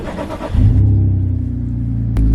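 Car engine with a holed, leaking exhaust, first rough then settling into a loud, steady low rumble close by, with a sharp burst near the end; no talking.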